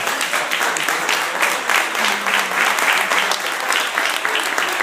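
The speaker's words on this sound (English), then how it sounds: "Folks, please give them a big round of applause." Wedding guests give the couple a big, sustained round of applause, dense steady clapping from a crowd filling the room with faint voices mixed in.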